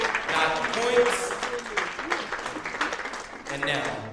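Audience at a poetry slam claps for a poet in a steady spread of applause that thins out, while a voice talks over it near the end.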